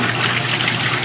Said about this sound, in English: I'm going to spin a little bit of water out. Water's coming out.